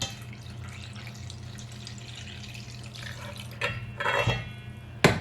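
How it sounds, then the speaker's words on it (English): Water poured from a container into sourdough leaven in a kitchen, a soft liquid trickle with a few brief splashy bursts near the end, heard close and alone over a low steady hum. "I'm taking the leaven and 2 cups of water and pouring the water into the leaven."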